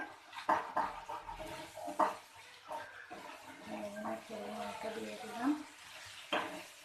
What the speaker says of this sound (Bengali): পোস্তটা লাল লাল করে ভাজতে হবে।